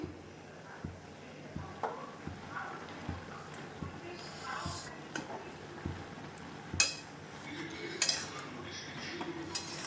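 Spinach cooking in a pot, stirred gently with a metal utensil: a steady series of soft clinks and scrapes against the pot at a slow regular rhythm, with a few sharper clanks, while someone talks quietly.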